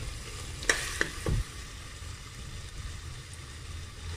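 Minced mutton and potatoes for aloo keema fry in a pan with a steady low sizzle, broken early by a few sharp clinks of a spoon against the pan.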